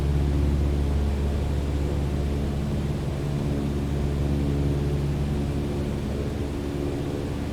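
Steady droning engine of a light airplane throttled back in Microsoft Flight Simulator during a cross-country flight, a constant low hum with a slight easing early on, alone without talk.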